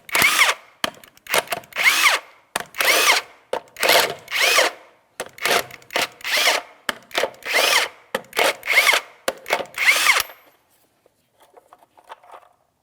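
Power impact tool bursts loosening wheel nut caps with a 22 mm socket on a 2007-2014 GMC Sierra 2500 HD, about a dozen loud, close rattling bursts in steady rhythm, then near silence with faint clinks.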